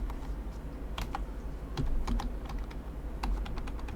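Someone types on a computer keyboard, giving soft, close, irregular key clicks with a few sharper taps over a low background hum. Nobody speaks.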